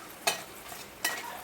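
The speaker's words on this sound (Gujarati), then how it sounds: "એને હવે આપણે હલાવીશું." Vegetables for masala pulav are stirred in a hot pan, giving a soft steady sizzle broken by two sharper scraping strokes, close and fairly quiet, with no voices.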